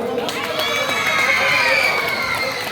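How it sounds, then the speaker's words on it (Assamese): A stage-show audience cheers and shouts together in a sustained, fairly loud crowd roar, steady throughout with no clear claps standing out. "ট্ৰাইবৰ প্ৰতিজন সদস্যৰ কাৰণে এবাৰ জোৰকৈ হাত চাপৰি দিয়কচোন"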